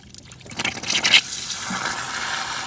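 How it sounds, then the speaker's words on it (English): Water draining from the heater core of a 2001 Chevy S10 Blazer, a brief close splashing gush that swells and then settles into a steady trickle. "water's going to come out of both sides"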